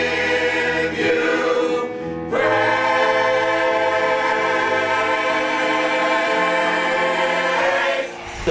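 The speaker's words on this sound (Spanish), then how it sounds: "Lo que estás escuchando ahorita es la práctica del coro de nosotros," A church choir rehearses, singing sustained harmonised notes that fill the space, with a brief pause near the start before the voices resume and hold strongly to the end.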